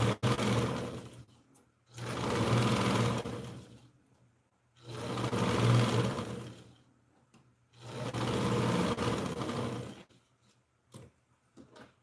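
A sewing machine stitches the back armhole of a children's blouse with an American-style cut armhole, running in three loud sustained bursts of about two seconds each separated by short pauses, with no talking.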